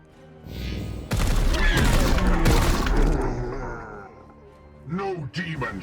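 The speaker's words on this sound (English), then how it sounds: "we'll do a nice Overwatch. With 3 potential shots." Overwatch gunfire in Warhammer 40K Chaos Gate Daemonhunters: a loud, dense burst of shots and booming impacts lasting a couple of seconds, fading out before a voice speaks.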